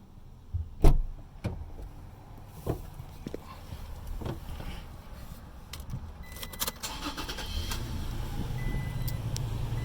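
Keys jangle sharply near the start, then a 2017 Toyota Tacoma SR5 4x4 Double Cab pickup cranks and catches, its engine settling into a low steady idle with clicks and chimes over it.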